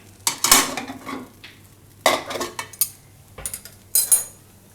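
Bread upma in a pan, the pan lifted off the gas and the upma scraped onto a plate: several close metallic scrapes and clinks of spoon against pan in short bursts with quiet gaps, no talk.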